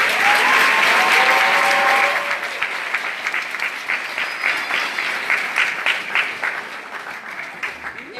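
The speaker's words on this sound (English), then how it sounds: "So can we have another round of applause for Louis?" A round of applause from the audience at a graduation ceremony opens with whistles and cheers over loud clapping, then settles into steady, slowly fading applause from a large crowd.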